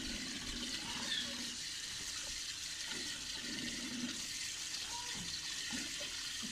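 Tap water runs steadily while soil-covered garlic is washed, a continuous splashing wash with no breaks, fairly close, with faint talk in the background.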